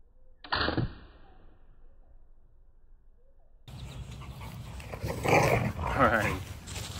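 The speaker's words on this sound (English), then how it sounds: "you're gonna hear some dogs playing in the background" Dogs at play on a ranch during a firearms test session, with a sharp growl or bark early on and then louder, busy scuffling and play noises filling the second half, close by.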